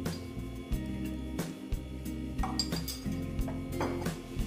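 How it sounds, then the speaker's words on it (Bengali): An iron griddle (tawa) set down on a stove while making vegetable paratha, giving repeated close metallic clanks and clattering of cookware, with no voices. "এবার আমি দেখো চাটু বসিয়ে দিয়েছি"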